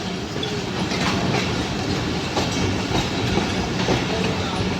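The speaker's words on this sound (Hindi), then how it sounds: "खाली ट्रेन।" A passenger train running on rails through Lahore on a Peshawar to Karachi journey, with a steady loud rumble and repeated wheel clatter close by, heard from on board.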